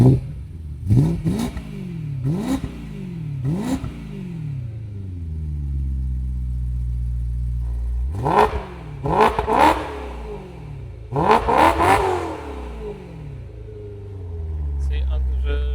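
A BMW Z3 Alpina Compressor with a German engine revs in several sharp bursts, each climbing and falling, with a steady idle rumble in between. It is loud and close.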